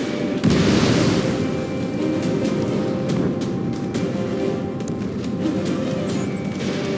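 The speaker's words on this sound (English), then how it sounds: "An explosion inside us!" Explosion in the Ace Combat 7 video game: a loud broad boom bursts in near the start and gives way to a sustained low rumbling roar with scattered crackles and pops throughout.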